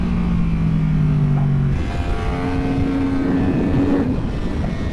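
Race car driven hard around a track during a trackday in Thailand, a loud close engine drone with rising and falling revs across gear changes, continuous and alone without talk.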